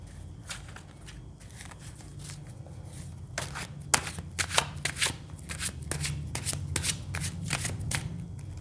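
Tarot cards being shuffled and dealt by hand, a steady run of soft riffling and flicking card snaps that grows busier and crisper halfway through, close up over a low background hum, with no talk.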